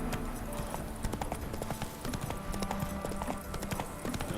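Hooves of Roach, the horse in the video game The Witcher 3, galloping in steady rapid clip-clops throughout, fairly loud, with a brief whinny and light game ambience behind.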